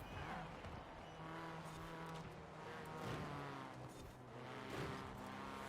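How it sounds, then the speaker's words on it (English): A race car's exhaust in a racing game with a track car, a steady droning engine note that rises and falls in pitch as it accelerates and shifts, with faint tire squeal in the background. "I do like the exhaust tone a little bit more in this car"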